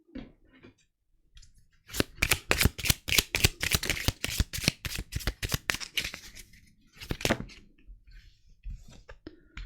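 Tarot cards are shuffled by hand in a rapid run of crisp riffles and slaps lasting several seconds, close and fairly loud, followed by a few softer card handling sounds.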